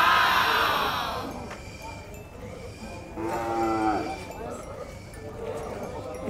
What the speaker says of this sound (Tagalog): Mga kambing, kahit yung mga kambing oh.